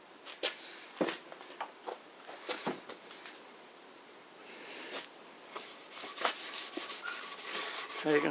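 A homemade scraper strips paint from an antique cabinet in a series of close, dry rubbing strokes, some sharp and isolated, then quicker and denser scraping toward the end.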